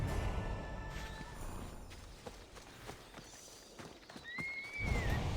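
Horse neighing and hooves in Assassin's Creed Odyssey: a high whinny rises near the end over scattered hoof clops and footsteps against a quiet outdoor ambience.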